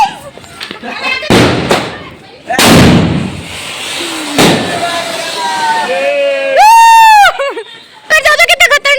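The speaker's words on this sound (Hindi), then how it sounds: "ये बड़ा वाला स्काई शॉट है गाइस।" A big sky shot firework at a Diwali celebration bursts with loud booming thumps and crackles, followed by a rising whistling shriek and a rapid string of sharp pops, while people talk and react nearby.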